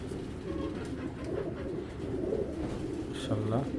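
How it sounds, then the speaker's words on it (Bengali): Big Giribaz pigeons coo in a low, continuous rumble nearby, with a few brief sharper sounds near the end. "বিগ সাইজের এক জোড়া গ্রিবাস কবুতর"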